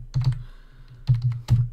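Three short bursts of clicky keystrokes on a computer keyboard, close and moderately loud, spaced over under two seconds while a command is typed into a Raspberry Pi terminal, with no talking.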